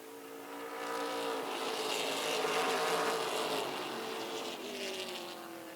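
Race cars roar past on a track, a sustained loud engine drone that swells and fades as the pack goes by, with no talk over it.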